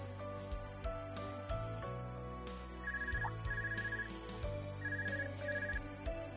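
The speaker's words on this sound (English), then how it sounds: "The phone is ringing." A telephone rings in the video game Trails of Cold Steel 3, a repeating electronic trill in short bursts over soft game background music.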